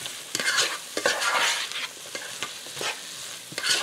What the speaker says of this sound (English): So now let's stir in our garlic.